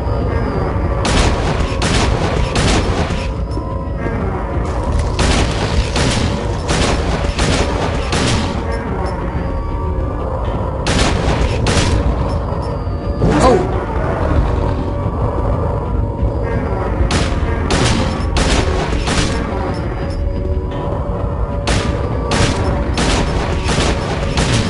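Heavy gunfire from the Silent Hill 2 video game booms repeatedly, including blasts that fit a shotgun, loud and close over a continuous ambient drone, with short pauses between clusters of shots.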